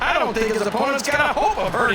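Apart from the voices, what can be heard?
No distinct noise like a dog, phone or traffic.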